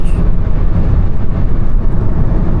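A 1.6-litre diesel engine in an Opel Insignia Grand Sport roars loudly and continuously close by, a heavy rumbling drone as it pulls hard.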